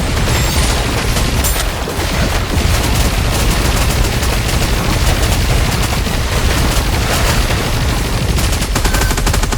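Dense, continuous gunfire from the video game Goddess of Victory: Nikke, loud and unbroken rapid shots and bursts layered over booming impacts throughout, with no talking.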